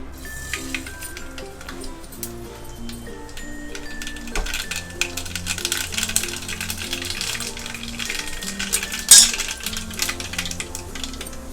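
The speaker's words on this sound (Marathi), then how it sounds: "मोहरी चांगली तळतळू द्यायची" Mustard seeds crackle in hot oil for a Maharashtrian gavar thecha, a dense run of small pops and ticks over a steady low background tone, close and continuous, with no voices.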